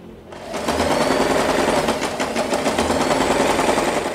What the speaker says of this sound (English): Fold it in half and sew a straight line.